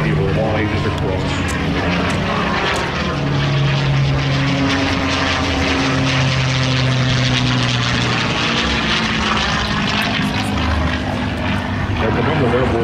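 A P-51C Mustang, a WWII-era fighter flown for the Tuskegee Airmen story, roars with a loud steady propeller-engine drone and low harmonic hum throughout, with a narrator speaking over it.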